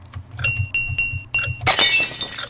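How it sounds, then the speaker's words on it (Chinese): In the horror RPG White Sparrow, a hammer smashes a glass frame after a few light clinking taps, ending in a bright, loud shatter with scattered tinkling shards, no voices present. "砸开了底部的玻璃框，锤子坏掉了"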